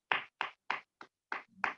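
Online meeting participants applauding, a quick series of six sharp separate claps in an uneven rhythm, close and fairly faint, with no talking.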